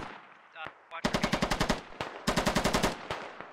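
A medium machine gun fires in the tactical shooter Squad: a brief opening burst, then two long rapid-fire bursts of evenly spaced loud, close shots with a short pause between them.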